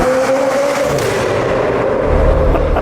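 A McLaren 765LT fitted with a Novitec exhaust gives a loud, rumbling exhaust note with deep popping bursts toward the end, heard close and alone.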